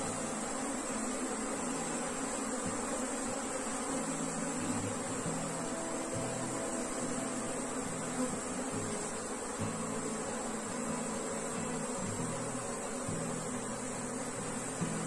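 Honeybees buzzing steadily and loudly throughout while the queen bee is caught by hand during hive work after a colony split, a dense continuous hum with no voices.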